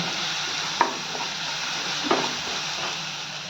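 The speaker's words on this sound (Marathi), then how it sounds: "ते चांगलं मिक्स करून एक मिनिटभर परतून घेऊया लसणाचा आणि मिरचीचा कच्चा पण आगायपर्यंत थोडंसं परतून घेऊ" Garlic and green chillies sauté in a hot pan with a constant soft sizzle, marked by two brief spatula taps.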